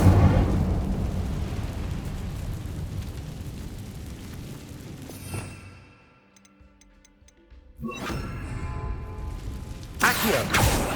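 Incendio fire spell cast in Hogwarts Legacy, a loud whooshing, crackling burst over busy game ambience, then a near-silent pause before another fiery blast and a bright flare near the end.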